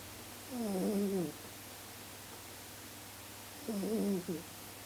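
A sleeping cat snores close by: two drawn-out, rasping breaths a few seconds apart, quiet against a low steady background hum.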